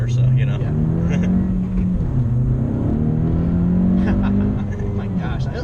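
A 2018 Honda Civic Si on winter tires accelerates along a straight road, its engine note rising steadily and droning loudly from inside the cabin, with people talking over it.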